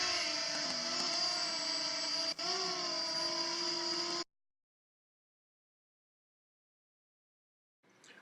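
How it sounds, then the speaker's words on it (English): A small camera drone flies over a beach at Pollett's Cove on Cape Breton, Nova Scotia, giving off a steady, close, buzzing whine with layered tones that bend slightly in pitch before cutting off abruptly, followed by silence. "flying his drone"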